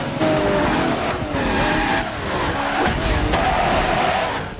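A Ferrari Enzo races in Project Gotham Racing 2, its loud engine roaring steadily and shifting pitch through the whole run, with tire squeal and a faint crowd under it.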